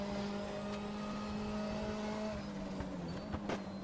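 A Group 5 race car roars around Suzuka West in the Raceroom racing game, its engine holding a steady drone before a downshift into fourth gear, with a few short, sharp engine blips near the end.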